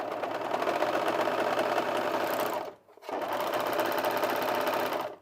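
An overlocker runs steadily with a fast mechanical whirring rattle while finishing a cushion seam, pauses briefly, then resumes stitching at the same pace, close and loud.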